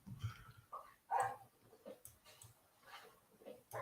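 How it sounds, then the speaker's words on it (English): Dog mob in the Minecraft video game giving short bursts of whimpering, yipping cries, several spaced calls over a few seconds with faint game sounds between. "You're making very dramatic noises and I didn't do anything to you,"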